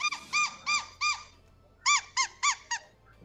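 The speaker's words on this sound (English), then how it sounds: "I thought that was her dog because it squeaks like that, but that is a toy." A squeaky dog toy gives eight sharp squeaks in two rhythmic bursts of four, close and loud, separated by a short pause over a faint background hum.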